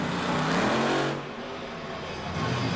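El Toro Loco, a monster truck, roars at Monster Jam in Anaheim, a loud, raw engine note that swells, dips briefly, then climbs again amid arena ambience.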